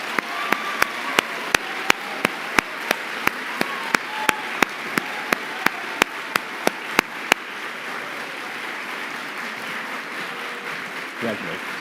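Applause in a chapel for a staff member coming forward to receive a tenure award: a steady crowd clapping with sharp, regular louder claps standing out, then fading into a low murmur of voices.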